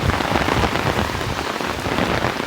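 Steady rain pours down on a city street during a walk in Chester, Pennsylvania, a dense, even hiss of drops hitting pavement and surfaces, loud and close throughout with no voices.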